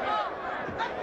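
Crowd noise from spectators at a women's boxing match between Holly Holm and Mary Jo Sanders, a continuous roar of cheering and shouting filling the arena.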